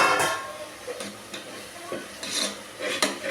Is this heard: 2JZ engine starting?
no